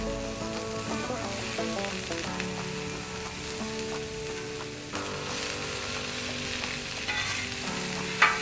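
Sausage sizzles with potato breakfast hash on a hot grill, a constant crackling fry with tonal ringing and occasional stirring scrapes, recorded close and without speech.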